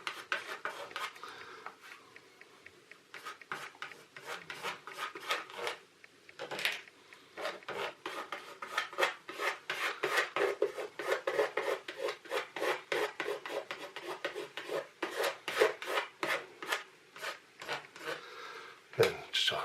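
Something being rubbed by hand into a model engine shed, quick repeated scrubbing strokes in bursts, close and fairly quiet, with brief pauses between runs.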